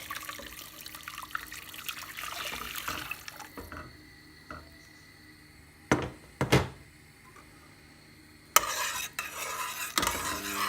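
Onions and a vegetable stock cube stirred in a pan for asparagus soup, a soft continuous scraping and shuffling with a few sharper clinks of utensil on the pan, fairly close and moderately quiet, with no talking.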